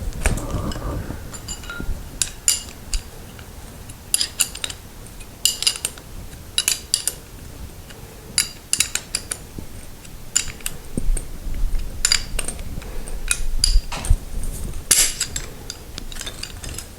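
A nut being tightened onto a garage door spring bolt, with repeated close metallic clinks and ratcheting taps in irregular bursts over steady faint background noise.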